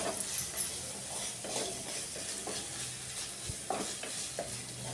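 Tomato and turmeric masala frying in a pan for dal khichdi, stirred with a utensil. A steady low sizzle runs throughout, with repeated soft scraping strokes and a few light metallic clicks, close and without talk.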